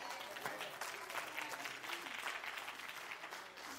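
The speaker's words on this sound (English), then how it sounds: "Oh, don't you just clap, clap," A church congregation applauds during a sermon, a steady wash of clapping that sounds fairly distant and soft and runs unbroken for a few seconds.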